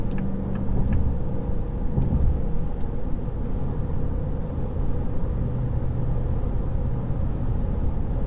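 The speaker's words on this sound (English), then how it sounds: "essentially all you hear is tire noise" Steady, broadband road roar from a 2026 Ford F-350 Super Duty's tires rolling on concrete highway at 70 mph, a constant drone with no voices.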